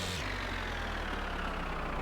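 A steady car engine drone in the video game My Winter Car hums continuously at a constant pitch, a loud, even idle with no talking.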